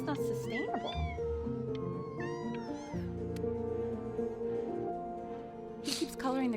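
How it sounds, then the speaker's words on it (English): Several cat meows with rising and falling pitch in a home, sounding over a dense background of music and other sound, with a brighter burst near the end. "I really can't have 5 cats around the house."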